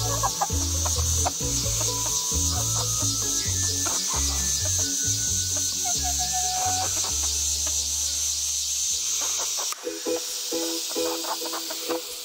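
Backyard chickens cluck and chatter nearby, loud and continuous, with overlapping calls from several birds and no voices.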